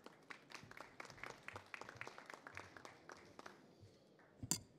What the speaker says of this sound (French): Et on l'applaudit également sous vos applaudissements.